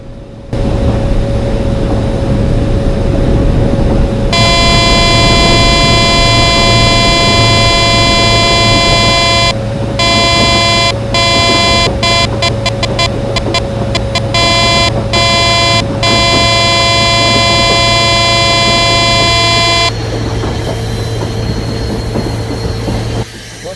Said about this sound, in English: Somebody pulled the alarm.